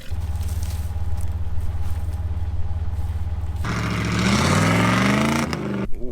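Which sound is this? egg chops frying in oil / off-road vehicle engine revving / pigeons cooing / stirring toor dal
off-road vehicle engine revving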